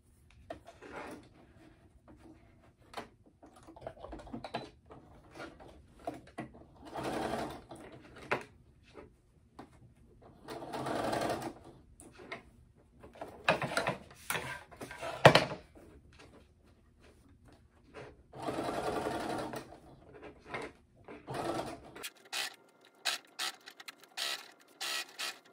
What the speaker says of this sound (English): I'm gonna stitch down this zipper.